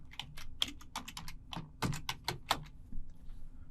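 Password typed on a computer keyboard: a quick, irregular run of crisp key clicks in bursts with short pauses, close and fairly quiet, no voices.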